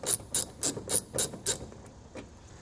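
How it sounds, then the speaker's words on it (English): An 8mm socket on a ratchet clicks while backing out bolts from a vehicle's fender well, giving six quick, even ratcheting bursts followed by two fainter, slower clicks, close and clear. "We're going to use an 8mm socket to remove those."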